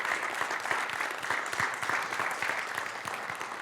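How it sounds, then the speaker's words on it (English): Steady applause from a sizable crowd, dense clapping that holds at an even level throughout. "let's give those guys a very big round of applause"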